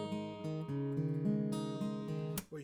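A guitar chord picked one string after another down through the strings, each note ringing into the next at a steady, close, clear level, then fading with a short pick noise at the end.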